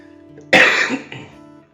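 A single sharp cough, close and abrupt, followed by a brief softer throat sound.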